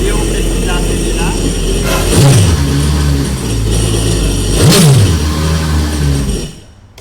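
A running engine, in a machine about to be washed, is revved twice in quick rising surges over a steady loud idle rumble, then the noise cuts off abruptly at the end as it is shut down.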